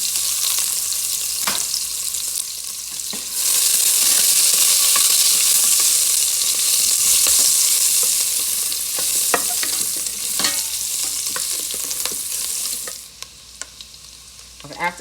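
Onions frying in oil with garlic butter in a pot, a strong steady sizzle that swells louder partway through, with occasional utensil scrapes and knocks and no talking.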